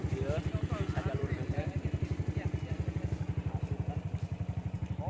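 A motorcycle engine thumps loud and close in a steady, rapid pulse throughout, with voices talking over it.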